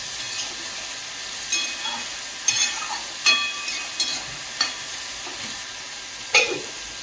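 Vegetables being stir-fried in a pan, a steady low sizzle punctuated by several sharp spatula scrapes and taps spaced a second or so apart, close up with no one speaking.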